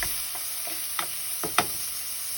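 Ginger sautéing in a pan for chicken curry, a constant frying hiss with a handful of sharp utensil scrapes and taps, with no talking.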